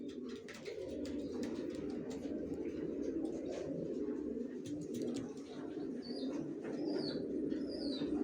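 Racer pigeons kept for sale coo steadily in a loft, a continuous low murmuring chorus of many birds close by, with faint chirps and occasional higher calls over the top.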